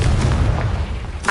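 A Confringo blasting spell in Hogwarts Legacy bursts in a loud, dense, rumbling explosion that fills the moment, with a sharper crack rising near the end.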